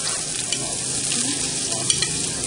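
Tofu stir-fried in a wok with shallot and chili for Thai pad thai, a steady close sizzle with scraping stirs and small clicks throughout, no voices.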